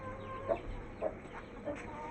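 A hen in a backyard coop with chicks makes three short clucks spaced roughly half a second apart, fairly faint over steady background noise.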